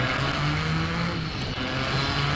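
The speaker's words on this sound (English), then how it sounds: "this Lamborghini Miura revs up to" Engine of a Lamborghini Miura at high revs, a dense continuous roar held steady for a couple of seconds, loud and close with no talk.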